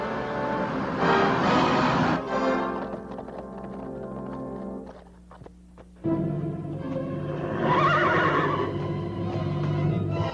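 Horses whinny loudly several times, shrill neighs rising and falling, with a brief lull midway before more whinnying and faint hoof movement.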